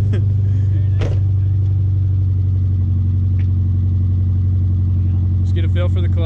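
A go-kart engine, likely not fully warmed up, holds a loud steady idle-like drone close by with little change in pitch, as voices talk over it and a few sharp knocks and clicks land near the start and end.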